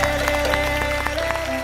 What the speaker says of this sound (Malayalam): സെബക്കുട്ടി എല്ലാരും എഴുന്നേറ്റെന്ന കൈയടിച്ച് തകർത്തല്ലോ